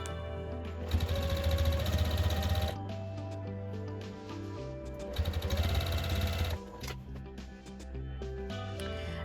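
A domestic sewing machine stitches a minky fabric blanket in two loud bursts of fast, steady motor whirring and needle clatter. Quieter running hum fills the gaps, close up and with no talk.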